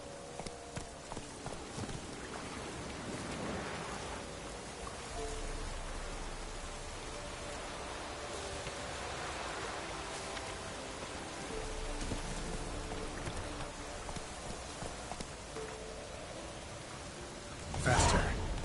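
Steady rain pours throughout in the video game The Witcher 3 while horse hooves clip-clop underneath, ending with a brief louder burst.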